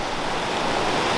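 Steady broadband rush of the upper Eagle River in Colorado, a trout stream, flowing close by as a continuous even wash with no talk over it.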